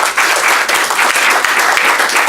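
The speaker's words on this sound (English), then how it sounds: "all presenters deserve our applause once again." Sustained applause from a large conference audience, many hands clapping in a dense, even roar without a break.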